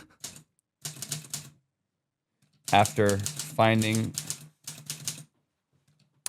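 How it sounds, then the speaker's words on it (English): Keyboard clacks in quick bursts of typing, separated by short pauses, with a voice speaking over the middle stretch. "The clack of the keyboard"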